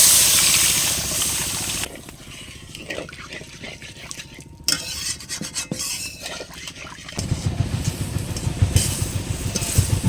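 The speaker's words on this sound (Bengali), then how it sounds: "এবার এর মধ্যে জল দিয়ে দেবো।" Water goes into frying masala for a cauliflower and potato curry: a loud hiss at first, then a quieter stretch of bubbling and scraping, and a strong sizzling surge near the end, close and without talk.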